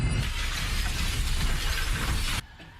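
Glass shatters from a shockwave in a science-fiction TV drama: a loud, dense crash of breaking fragments and rushing noise that holds steady for a few seconds, then cuts off abruptly.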